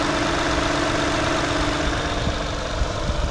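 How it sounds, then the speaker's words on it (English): A 2007 Lexus GS350 engine runs steadily at idle while the cooling system is bled, a constant close hum and rumble with no talking over it. "as you can hear, the car is on"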